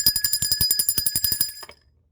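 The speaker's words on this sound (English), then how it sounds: "Let's ring the bell for that." A bell rings rapidly and repeatedly, a bright metallic trill of quick strikes for about one and a half seconds before stopping abruptly into silence.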